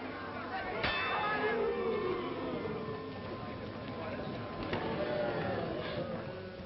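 A boxing round bell clangs at a 1940s fight, two sharp metallic dings ringing out over crowd hubbub and voices.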